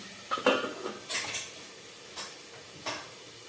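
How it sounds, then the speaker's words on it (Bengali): A metal lid is set down on a cooking pan of chicken mince on a low gas flame, giving a few light clinks and taps of metal on metal, quiet and close, with no talking. "আমি একটা ঢাকা দিয়ে দিচ্ছি"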